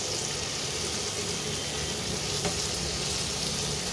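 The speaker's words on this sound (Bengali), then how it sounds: "এই টমেটোটাকেও একটু ভাজতে হবে, নরম হতে হবে" Tomatoes frying in a pan, with salt added, make a steady, dense sizzle that runs unbroken and fairly loud, with no one talking.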